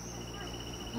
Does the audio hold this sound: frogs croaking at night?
yes